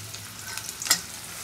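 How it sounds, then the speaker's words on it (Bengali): Onions for beresta fry in hot oil, a soft continuous sizzle with a few crackling pops and one brighter spit near the middle, close and alone. "তেলটা গরম করে বেরেস্তার পেঁয়াজটা আগে দিয়েছি"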